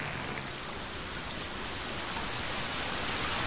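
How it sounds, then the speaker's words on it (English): Steady rain falling in the survival video game The Forest, a dense, even hiss of raindrops on surfaces, loud and continuous with no voices. "Is it raining again? Yeah, it's still raining."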